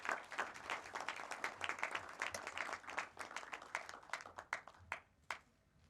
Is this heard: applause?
yes